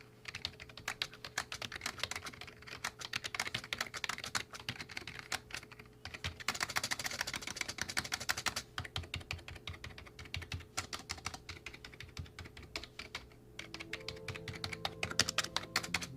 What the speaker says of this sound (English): here's a little typing test for y'all to hear what this keyboard actually sounds like.